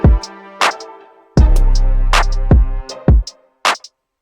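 A mastering-stage beat plays without stereo separation processing: sparse punchy drum hits with a booming sustained bass note in the middle, loud and dry, with gaps between hits and no voices.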